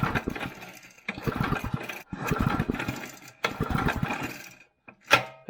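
An old Briggs engine on an abandoned go-kart sputters and chugs in short uneven bursts, catching briefly then dying between attempts, loud and close.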